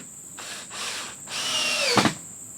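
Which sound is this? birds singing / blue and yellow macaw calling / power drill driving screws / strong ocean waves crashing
power drill driving screws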